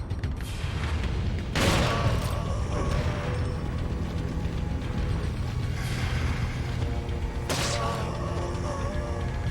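Shotgun blasts in Resident Evil 4 HD, two sharp loud booms several seconds apart over a constant bed of game music and mechanical ambience.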